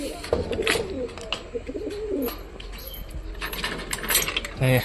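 Pigeons in their coop coo in low, repeated calls close by, mixed with rattling and clattering from the enclosure.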